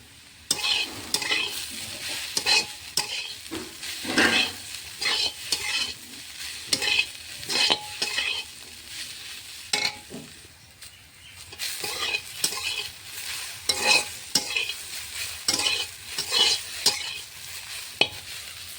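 Taro (kochu) pieces, coated with turmeric and salt, stir-fry in a pan with a continuous sizzle broken by repeated rhythmic scrapes and clinks of the spatula against the pan, close up and without talk.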